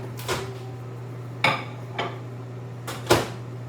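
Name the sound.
dishes and microwave oven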